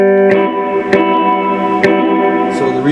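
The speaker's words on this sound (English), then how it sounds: "So the reverb's all the way up" A clean electric guitar rings through a Bugera 333XL tube combo amp with the reverb turned all the way up, picked notes blooming into a sustained, washing tail.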